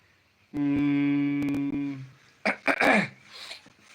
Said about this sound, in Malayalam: തൊണ്ട ശരിയാക്കിട